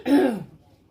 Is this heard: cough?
yes